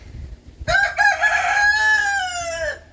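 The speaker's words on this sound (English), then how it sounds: "That rooster." A rooster crows once, close and loud, a long drawn-out call that trails off after a few quiet background knocks.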